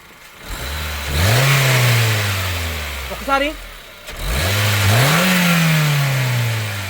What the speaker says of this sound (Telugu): ఎక్సలేటర్ ఇచ్చినప్పుడు కూడా ఎటువంటి ఎగస్ట్రా నాయిస్ అయితే రావట్లేదు